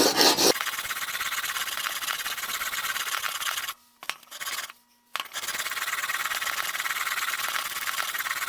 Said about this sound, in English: The thumping sound that you're hearing is the wheel going over that hole.